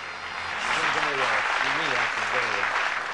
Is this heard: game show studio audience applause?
yes